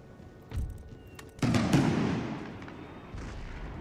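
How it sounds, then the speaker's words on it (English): Artillery in Empire Total War fires shrapnel shot: a muffled thump near 0.5 s, then a loud booming blast at about 1.4 s that rumbles and fades, with another softer report late on. "Shrapnel shot. No, no, shrapnel shot."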